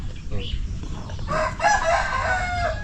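A rooster crows loudly nearby over a low background hum, following a few softer clucking sounds.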